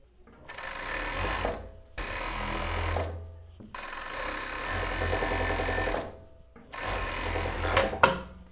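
A sewing machine stitching the sleeve seam of a knit cardigan, running in four sustained bursts of steady whirring and rattling with short pauses between them, loud and close, with no talking.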